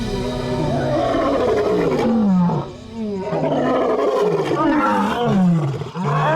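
A lion roars close and loud in a series of deep, drawn-out bellows, each swelling and fading with short gaps between them, with no other sound around it.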